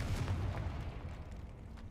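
A fiery explosion spell going off in the wizarding video game Hogwarts Legacy: a deep, low boom that rolls into a long rumbling tail, heavy bass filling the whole moment with no talking.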